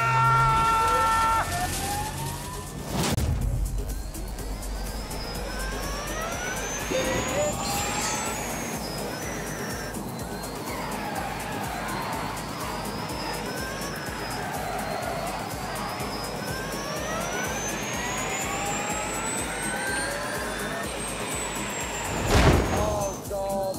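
A high-voltage car launches at full throttle in The Grand Tour Game, a close, steady mechanical roar with rising whining sweeps that climb repeatedly as it accelerates, plus a brief loud burst near the end.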